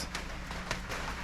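Rain falls steadily and softly on the Dhavaleshwar trek near Pune, a faint, even patter heard from close by with no voices.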